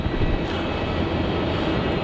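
Qantas Airbus A330 jet engines roaring steadily at Melbourne Airport on a Delhi-bound takeoff, a broad continuous rumble held at a constant level with no pauses.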